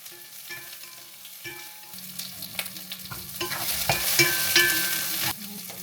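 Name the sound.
onion sautéing in a pan with oil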